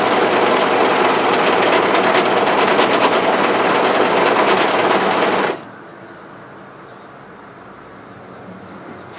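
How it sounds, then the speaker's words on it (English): An overlocker serger stitches and trims a curved fabric edge of a rear-zip hoodie, a loud, dense, steady mechanical whir for about five and a half seconds before it cuts off abruptly into near silence. "So when you're ready, overlock through that curved edge."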